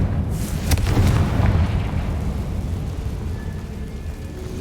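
A Confringo spell blast in Hogwarts Legacy goes off as a single deep booming burst that rumbles and slowly fades, with no talk over it.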